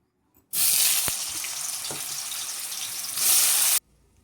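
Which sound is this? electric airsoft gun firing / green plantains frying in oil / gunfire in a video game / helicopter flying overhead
green plantains frying in oil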